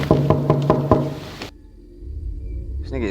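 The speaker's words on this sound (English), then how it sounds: "knocking on their door" Knocking on a flat door on a rough housing estate in Scotland, a run of five or six firm, evenly spaced raps, loud and close, followed by a muffled pause and low room rumble.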